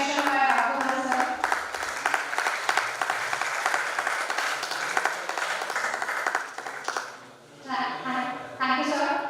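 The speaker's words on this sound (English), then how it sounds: "Great round of applause, guys, for a great session by Raghavan sir." An audience at the International Conference on Computational Intelligence and Autonomous Systems applauds after a session, with dense, sustained clapping that fades briefly near the end and then picks up again, while voices speak over it.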